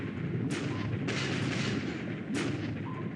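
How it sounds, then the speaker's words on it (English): Torpedo hits exploding against the ship Kaga in a naval war video game: a loud, continuous roar with three sharp explosive bursts, close and dense, with no voices. "4 torpedo hits. Unbelievable."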